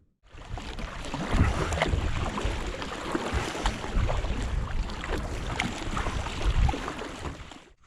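A small fishing boat cruises back toward the beach, giving a continuous rumbling motor and rushing wind and water noise that holds steady at moderate loudness after a brief quiet start, with no talking.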